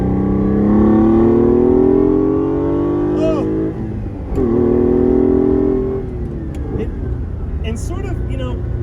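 A Ferrari Dino 246 GTS with a gated shifter and dogleg gearbox is being driven. Its mid-mounted engine makes a loud, sustained drone that climbs in pitch, dips at a gear change, then settles, while someone talks over it.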